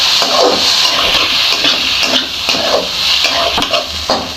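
Kothu parotta with chicken gravy is tossed and stirred with a dosa ladle on a hot dosa tawa, making loud, close sizzling with rhythmic scraping strokes and bursts of frying throughout.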